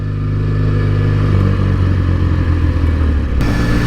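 Motorcycles ride past on a Peak District road, a loud, continuous engine roar heard close, rumbling steadily with a slight shift in pitch as they go by.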